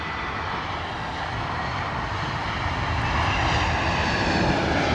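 Lufthansa Airbus A320neo arriving from Frankfurt and landing at London Heathrow, a steady jet roar that swells gradually as the aircraft draws nearer, with no voices over it.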